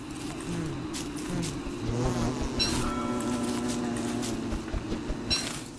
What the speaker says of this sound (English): Don't want to fuck with bees.